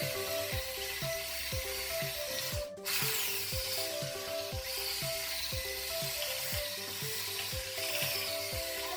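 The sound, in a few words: mixing sugar and egg yolk for tiramisù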